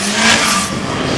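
At a drag strip, a beige car launches hard off the line, a loud close engine roar with a brief tire squeal that surges and fades within about a second.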